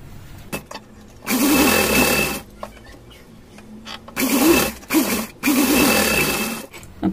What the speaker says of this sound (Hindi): उल्टा रखने के बाद यहाँ से लेकर यहाँ तक सिलाई करेंगे